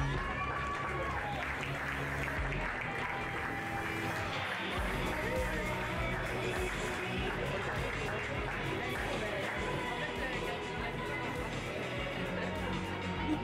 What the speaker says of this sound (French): Je vous demande d'applaudir celles qui vont monter sur les marches.